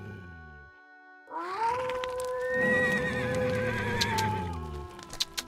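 Horse whinnies loudly and clearly in the Star Equestrian PC game, a long wavering neigh rising after a brief silence, with faint hoof clip-clops and game sounds underneath, no talking.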